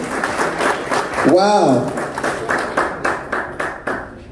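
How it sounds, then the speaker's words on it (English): Audience applause at a banquet celebrating Nigeria's independence: steady clapping from a crowd fills the room, easing into scattered claps at the end, while a voice exclaims over it. "Please, a round of applause for him one more time."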